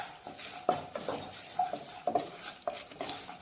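A spoon stirs turmeric powder through Kerala-style lemon rice in a pan after the flame is off, making a quiet run of repeated scraping strokes at an even rhythm, close by and without speech.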